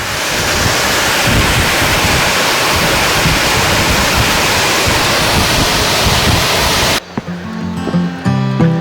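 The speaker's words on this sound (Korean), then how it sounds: "농당 폭포 하단에 와 있습니다. 와, 진짜 장관입니다, 장관." Yongdam waterfall at Geumsusan, heard from its base: a loud, steady roar of falling water fills the first seven seconds, then cuts to quieter ambience with faint tonal sounds.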